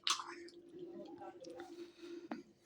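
Someone chewing a mouthful of fish and thin eggplant curry cooked with dried river fish, soft wet squishy bites heard faintly and close alongside quiet speech.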